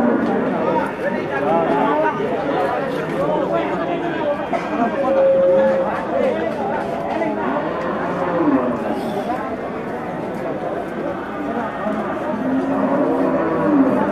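Jumbo beef cattle at a busy livestock market, among them Limousin and Simmental breeds, moo with long low calls rising over a dense crowd of chatter and nearby voices.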